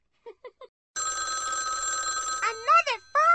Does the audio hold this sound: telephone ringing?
yes